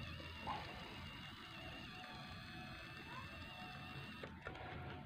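A small 716 coreless electric motor, 7 mm across, drives a converted 1/64 scale toy truck through its gears. It gives a steady, faint, high whine with a quiet mechanical buzz that holds evenly throughout.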